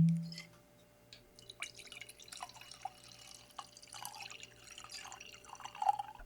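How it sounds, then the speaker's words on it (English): Sake pours from a freshly opened bottle into a glass, a soft, faint trickle with light drips and splashes running for several seconds at close range in a quiet room. "let's pour them in the glass and do our sake ASMR"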